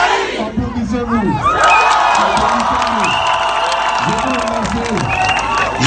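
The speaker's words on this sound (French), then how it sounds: "Applaudissez-vous" A large crowd at a support gathering in Yopougon roars with shouts, whoops and scattered clapping, loud and continuous, with voices calling out over the din.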